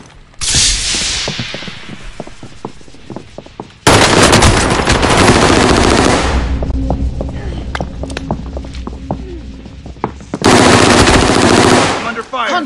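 Heavy automatic gunfire in a console shooter game, long loud machine-gun bursts in three waves separated by quieter stretches with single shots and a low hum.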